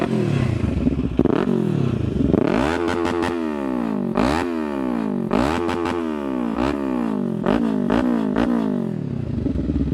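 A Kawasaki KLE500 motorcycle engine, fitted with Outback Motortek parts, revs repeatedly up and down in loud, close blips that rise and fall in pitch, heard alone with no talk.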